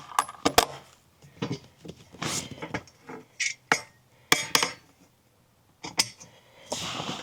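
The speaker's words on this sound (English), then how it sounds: "use this provided tool and tighten it on up" Tightening the mounting hardware of a roof top tent with the supplied hand tool, giving a series of short metallic clicks and clinks in uneven bursts with gaps, close by and fairly quiet.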